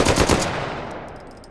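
Rapid, loud gunfire from an M1 carbine rifle in the H3VR virtual-reality shooting game, a quick cluster of sharp shots at the start that decays into a fading echo.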